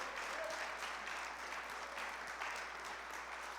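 A congregation applauds steadily during a church service, a dense wash of clapping at even loudness throughout, with no voices standing out.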